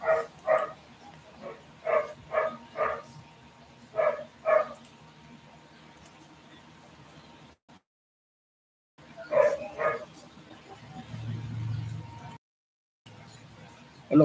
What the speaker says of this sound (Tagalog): The Doberman Shepherd.